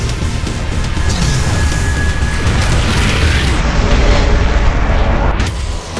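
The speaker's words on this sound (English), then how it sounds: "The explosion made the floor unstable." A loud explosion in a cutscene from the video game Yaiba: Ninja Gaiden Z booms and rumbles continuously, thick and heavy for the whole stretch with no break.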